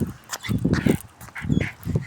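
A female dog whimpers and whines in repeated short bursts while out on a walk, the cries close and fairly loud, coming in two clusters separated by a brief pause.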